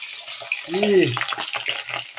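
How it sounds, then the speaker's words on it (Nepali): Pieces of local chicken drop into hot oil and set off a close, crackling hiss that keeps going, while a voice speaks over the start. "अब म यो तातेको तेलमा च्याक्क हालेपछि"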